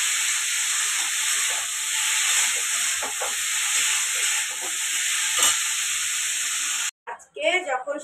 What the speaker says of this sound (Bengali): আলুর তরকারিটা চাপিয়ে দিই।